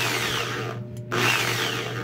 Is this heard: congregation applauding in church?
no